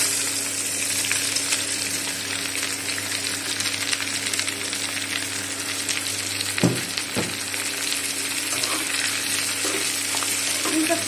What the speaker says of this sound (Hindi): प्याज को हम अच्छे से फ्राई कर लेंगे